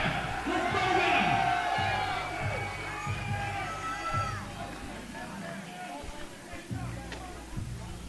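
A crowd at an amateur MMA event cheers and whoops for the fighters, a dense roar of many voices swelling at first and then easing, with a loud announcer's voice carrying over it.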